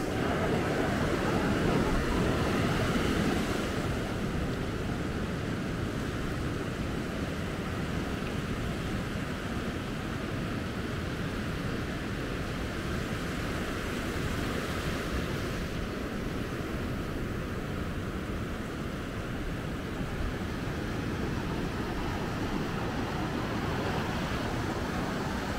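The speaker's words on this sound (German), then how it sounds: "Ja, wunderschöne Wellen heute Morgen" Ocean waves breaking at Maspalomas, Gran Canaria, on a morning with a paddler on the water: a steady, broad wash of surf rolling on continuously without pauses, no voices.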